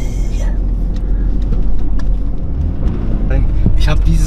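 A BMW E46 M3 convertible running, its engine and exhaust a loud, steady low rumble with wind buffeting, heard from inside the car as someone talks over it.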